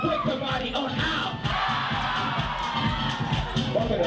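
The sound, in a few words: crowd applause and cheering at a ballroom kiki ball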